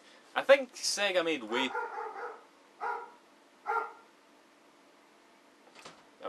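A pet dog barks a couple of sharp yelps near the start, then a few softer barks follow, while someone talks indoors close by.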